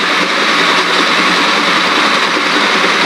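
A rotating field generator spins up to nearly 900 RPM, producing a loud, steady mechanical whir that holds constant, with no voices.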